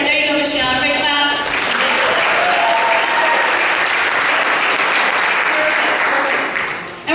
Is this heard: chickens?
no